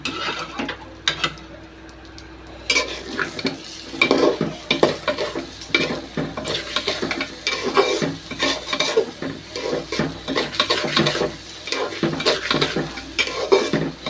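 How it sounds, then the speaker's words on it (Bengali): Polao rice fries in hot oil in a pot as it browns, under steady sizzling. A spoon stirs it repeatedly, scraping and clinking against the metal, close and busy for the whole stretch. "পোলার চাউলটা বাদামি কালার করে ভেজে দেব"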